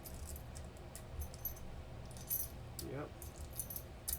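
A bunch of keys for a large mortise lock jangles faintly in short metallic bursts, with a brief word spoken in the middle.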